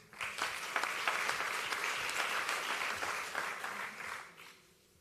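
A startup competition audience claps steadily for about four seconds, a dense, loud wash of hands, before the applause thins and fades out at the end.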